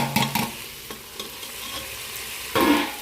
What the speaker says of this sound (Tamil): இஞ்சி பூண்டு பச்சை வாசனை போனதுக்கப்புறம் நம்ம தக்காளி சேர்த்து நல்லா வதக்கிக்கலாம்